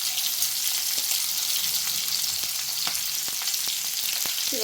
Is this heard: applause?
no